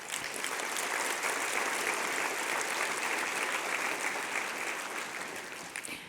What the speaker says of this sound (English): would you all give yourselves a huge round of applause?